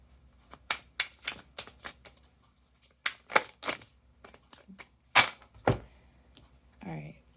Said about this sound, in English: I had a bunch of cards fall out